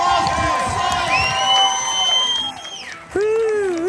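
A crowd at a sold-out cookbook book-tour event at a Houston barbecue restaurant cheers and whoops loudly and steadily. Excited high-pitched shouts rise over the din, the noise briefly dips, then swells again.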